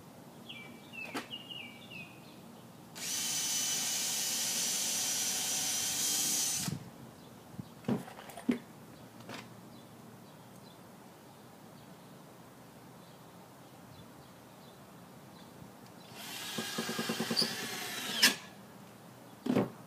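A power drill drives 2.5-inch screws into a cornhole board frame, two separate loud whirring bursts of a few seconds each, with scattered knocks and clatter between them and no talk.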